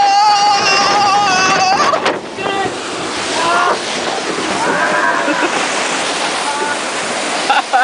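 A log flume ride at Busch Gardens Europe, Virginia, rushes and splashes through water in loud, broad surges. Riders shout and talk over the noise.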